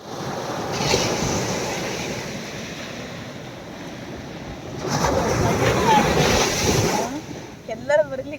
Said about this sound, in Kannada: ಅಲೆ ಸೌಂಡ್ ಕೇಳಿಸ್ತಿರ್ಬೋದು ನಿಮಗೆ.